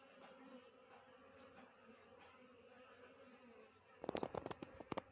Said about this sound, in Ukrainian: Періодично заходить по одній бджолі.